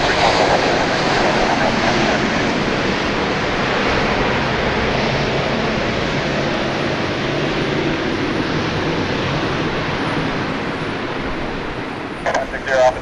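A departing Boeing 737 at Dallas Love Field, a loud, steady jet engine roar that holds throughout with a broad rumbling wash, radio chatter faintly underneath.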